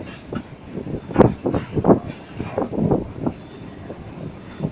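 Long train rolling beneath a bridge, heard from above as a series of loud irregular rumbles, clanks and wheel thumps that swell and fade, with no talking.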